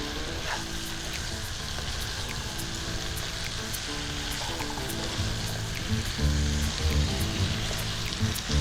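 Vegetables being tossed with salt, turmeric and spices in a pan while cooking dry Bombay duck with Malabar spinach, giving a continuous close sizzle with stirring scrapes and a louder burst of frying near the end.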